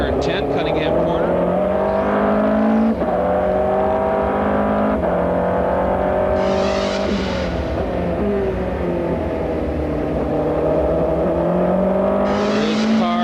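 American Le Mans Series race cars from the 2005 season run through Bishop Bend, their engines a loud, continuous roar with shifting pitch and two brief bursts of high-pitched hiss, while a commentator talks over the sound throughout.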